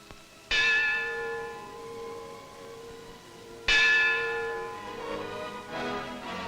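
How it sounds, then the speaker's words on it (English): The Lutine bell at Lloyd's of London rings out twice, each a loud, clear metallic strike with a long, slowly fading ring inside the underwriting room. "Their arrival is heralded by the sounding of the famous lutein bell"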